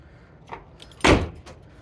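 A Volvo 940 car door swings shut with a single solid, close thud after a faint earlier click, then quiet.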